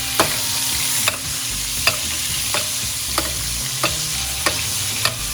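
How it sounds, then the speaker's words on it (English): A T-bone steak sizzles steadily in hot oil, garlic and butter while it is basted, with sharp spoon clicks against the pan recurring roughly every half second to second over the continuous frying hiss. "We'll start basting this bad boy with the oil and that garlic infused there and the butter."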